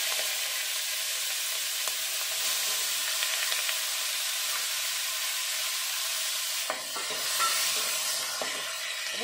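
Chopped onion hits hot oil with black cumin seeds and a torn bay leaf, giving a loud, dense, continuous sizzle that hisses steadily throughout, briefly dipping once, with no voices.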